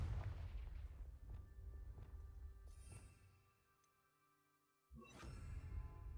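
Confringo spell explosions in a Harry Potter video game: a run of booming blasts with crackling tails, fading into near silence before another loud burst erupts at the end.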